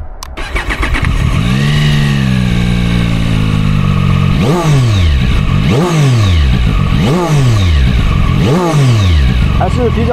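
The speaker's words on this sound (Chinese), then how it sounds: "先打火听个声音" A ZONTES 703RR motorcycle engine cranks and fires up, settles into a steady idle, then is blipped through four sharp revs that climb and fall back, loud and close throughout.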